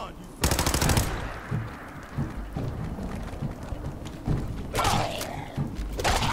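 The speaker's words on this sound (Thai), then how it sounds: "เสียงมันยิงมา" Automatic gunfire in the video game Fallout 4 rattles out in loud bursts, a heavy opening volley followed by several shorter rapid strings of shots over rumbling game ambience.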